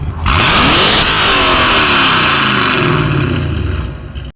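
A Camaro V8 exhaust with an X-pipe setup and no soft limiter revs hard and loud, roaring up and down continuously for several seconds, close by, with no voices.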